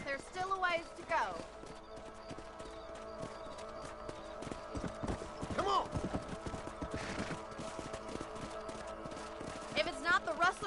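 Horse hooves clip-clop steadily while riding in the Red Dead Redemption video game, moderately close, with occasional talk and a shout over game sounds.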